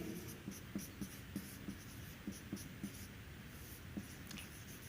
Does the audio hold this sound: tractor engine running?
no